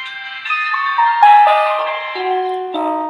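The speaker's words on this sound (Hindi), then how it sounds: "ये बंद होने चाहिए मोबाइल, ठीक है।" Itel keypad mobile phones switching off play a loud electronic shutdown jingle of stepped, bright tones that descend and rise over about three seconds, alone and clear.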